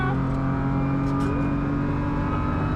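The Team Schirmer BMW M3 race car's engine roars loud and close from inside the cabin on the Nordschleife, a dense, steady mechanical drone under hard throttle.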